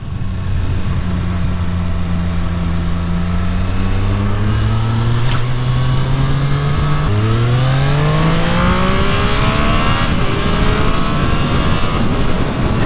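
A Triumph Street Triple RS motorcycle engine revs hard and climbs through the gears, with a loud, close, continuous howl and a clear pitch drop at each quick-shifted change.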